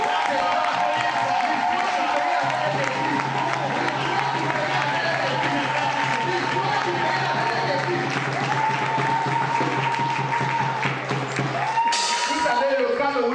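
At a ceremony, an audience gives sustained, dense applause that fills the space for the whole stretch, steady and loud, while a voice speaks over it and a low hum runs beneath.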